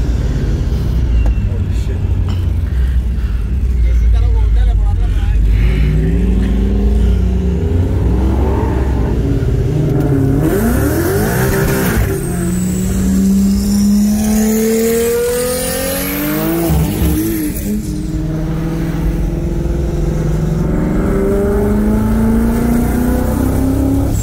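A 1,100 whp 2JZ-powered Lexus IS300 and a 1,000 whp Gen 2 Coyote Mustang with a TH400 transmission drag race: loud high-revving engines rise through rapid gear changes as the cars launch and scream past, with voices talking.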